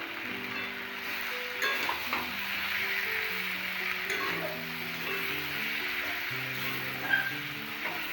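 Spices and mixed vegetables sautéing in a pan for a niramish mixed vegetable curry, a soft steady sizzle with faint stirring taps, fairly quiet throughout.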